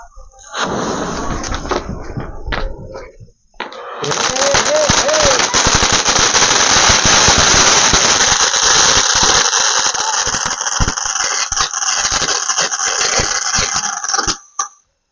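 An apple-shaped chocolate firecracker from Sivakasi bursts into a long rapid string of sharp cracking pops with whistling squeals, loud and close, running several seconds after a brief stretch of voices and handling noise.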